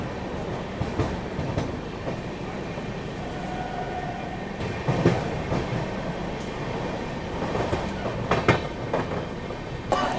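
A SMVT–Howrah AC superfast express overtakes at night, heard from a halted train: a steady rolling rumble of passing coaches with rhythmic wheel clatter and a few sharper clanks, continuous and fairly close, no voices.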